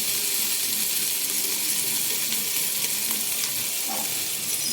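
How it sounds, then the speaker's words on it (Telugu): Ginger garlic paste sizzles steadily in a hot pan during biryani cooking, a continuous close hiss of frying with no talking. "కొంచెం వేగిన తర్వాత పచ్చివాసన పోయిన తర్వాత అల్లం వెల్లుల్లి పేస్ట్"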